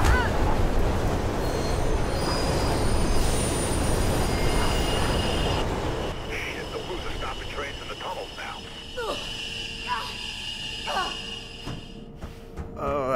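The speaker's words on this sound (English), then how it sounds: "There's a train coming behind you." A train in the video game Mirror's Edge rumbles in loud and close with rolling rail noise and squealing wheels, easing slightly after six seconds while metallic clatter and screeches continue, with some voice sounds underneath.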